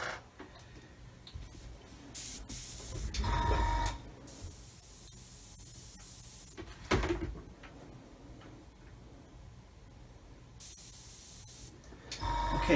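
A hobby airbrush spraying paint onto a 1/35 scale HobbyBoss Land Rover SWB model at a reduced air pressure of 10 to 12 PSI, giving short bursts of soft hiss separated by quiet gaps.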